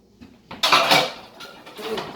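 Metal cooking pans being rummaged for and handled in a home kitchen: a few close clanks and scrapes, one loud clatter, then lighter knocks, with no talking.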